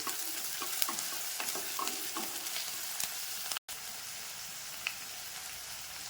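Chopped onions frying in a pan for sprouted horse gram biryani, a faint, even sizzle with scattered crackles and scraping stir strokes, briefly cut by a gap, no voices.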